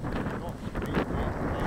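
Wind buffets a microphone outdoors by the water, a constant low rumbling roar with gusty swells, while people talk faintly underneath.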